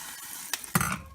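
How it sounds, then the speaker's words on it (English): Chili with kidney beans and Heinz deep brown beans being stirred in a pot, a short scrape followed by a louder wet clatter of the spoon, close and without talk. "And the kidney beans. Give it a stir."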